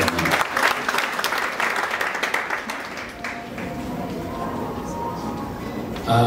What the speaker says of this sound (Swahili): makofi ya Saitoti